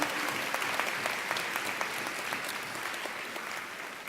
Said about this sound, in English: So why don't you give them a round of applause,